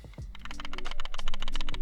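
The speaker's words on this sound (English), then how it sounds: "That's some very clear rattling around inside, even with stabilization." Panasonic Lumix 14-42mm f3.5-5.6 zoom lens shaken by hand, loose internal parts rattling in a quick rapid series of light clicks, close and fairly quiet, with no talk.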